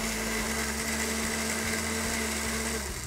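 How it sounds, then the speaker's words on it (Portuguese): Countertop blender whirring steadily as it purées garlic, salt, lemon and milk for a dressing, a loud continuous motor drone with a slight wobble near the end, close by. "a gente bate primeiro o alho, o sal, o limão e o leite"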